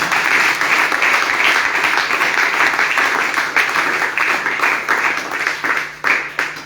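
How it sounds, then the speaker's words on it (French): A church congregation applauds at a spiritual training service with a prophet in Gabon: dense, sustained clapping from many hands that fills the room, holding steady for several seconds with occasional louder swells near the end. "Acclame Jésus encore"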